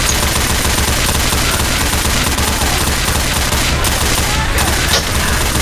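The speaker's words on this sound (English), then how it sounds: "There's machine guns everywhere." Dense, continuous machine gun fire in the video game Left 4 Dead 2, loud and sustained with overlapping bursts and faint voices in the mix.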